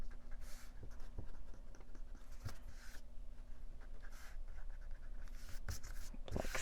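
Pencil lines are rubbed out on paper for a steampunk nature craft page, a soft, steady scrubbing texture in close, quiet passes with a few brief louder strokes, with no talking.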